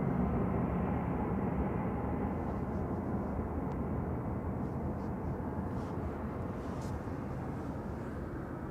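A Eurowings Airbus A320 Classic departing Manchester Airport produces a steady, broad jet engine roar at moderate distance, constant throughout with no talk.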